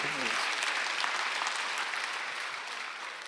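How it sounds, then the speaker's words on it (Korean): A church congregation at a Sunday worship service claps together, a dense, even burst of applause that carries on steadily for a few seconds, with a faint voice briefly at the start. "박수하세요."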